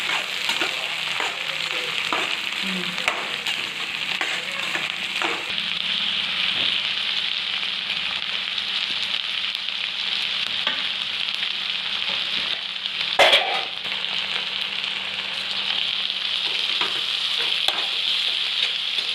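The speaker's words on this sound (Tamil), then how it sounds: "சின்ன வெங்காயத்தை போட்டு நல்லா மிக்ஸ் பண்ணிக்கோங்க" Shallots and chicken sizzling in hot oil in a pan for green chilli chicken, a loud continuous close frying hiss with scattered stirring scrapes and one sharp clatter partway through.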